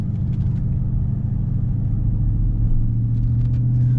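A Dodge Challenger R/T with the 5.7 V8 driving, heard from inside as a loud, steady low engine rumble and road drone that swells slightly toward the end, with no voices.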